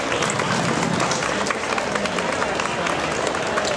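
An audience in a hall applauds the faculty, steady loud clapping from many hands sustained throughout, with a voice speaking over it.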